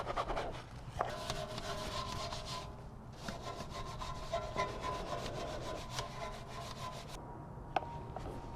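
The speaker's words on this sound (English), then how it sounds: "you can definitely see that browning happening as I'm agitating it" Brush scrubbing a wheel coated in wheel cleaner, repeated rhythmic bristly strokes close up with brief pauses between bursts, no voices.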